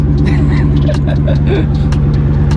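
A loud, deep exhaust from a modified 392 Hemi V8 rumbles steadily and close, with a voice talking over it throughout.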